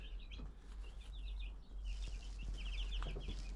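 Five-day-old Ross/Cobb meat bird chicks cheep and cluck in quick bursts over a steady low hum, close by and moderately loud, with no voices.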